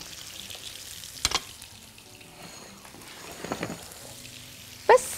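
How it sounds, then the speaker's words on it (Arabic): Sliced garlic fries in olive oil and butter in a wok, giving a quiet, steady crackle punctuated by a few sharp utensil knocks, the loudest near the end. "هنحط الثوم شرايح"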